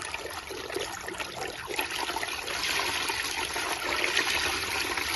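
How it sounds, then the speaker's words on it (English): A SHYSKY 24V 120W speed-adjustable brushless DC micro water pump runs submerged, giving a steady, fairly quiet rush and gurgle of moving water that holds even throughout without any voices. "we place the pump back to water, let it run normally again"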